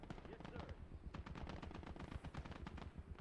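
Heavy .50 caliber machine gun fire in a Gates of Hell: Ostfront battle, rapid bursts chattering continuously and loudly alongside other gunfire, with a voice faintly underneath.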